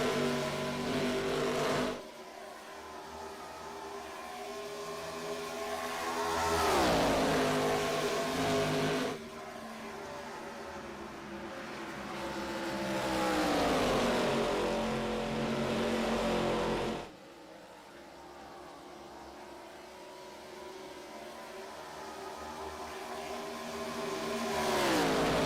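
Race cars lapping Texas Motor Speedway roar past in repeated waves, each pass swelling loud and close, then dropping in pitch as it fades, with a steady engine drone between passes and no voices.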